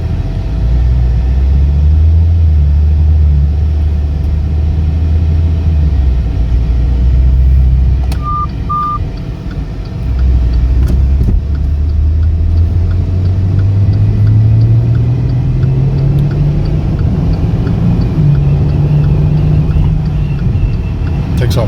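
A 2017 Maserati Ghibli pulls away from a traffic light, its engine rumbling low and rising smoothly in pitch as it accelerates, heard from inside the cabin with a brief dip in the middle.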